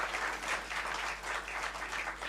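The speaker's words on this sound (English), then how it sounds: "a big round of applause for your parents as well" Graduation convocation crowd applauding the graduates' parents, a soft, steady wash of clapping heard from a distance with a low hum beneath.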